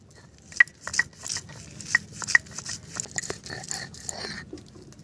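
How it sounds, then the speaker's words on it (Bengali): Lentils are ground into a coarse paste for banana flower kopta, giving close, rhythmic scraping and grinding strokes with sharp little clicks, repeating unevenly throughout without speech. "প্রথমে আমি ডালটা বেটে নিচ্ছি।"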